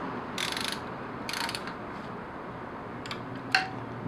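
Ratchet fitted with an E8 Torx socket tightening bolts on a BMW M54 engine during dual VANOS timing work, heard as a few short bursts of clicking spaced across the clip, fairly close, with a sharper metallic tap near the end.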